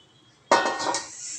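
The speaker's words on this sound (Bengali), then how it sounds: "ঝোল দিয়ে দেওয়া হলো" Broth poured into a pan for a mustard pabda fish curry: a sudden splash and sizzle that settles into a steady hiss, close and moderately loud, with no talking.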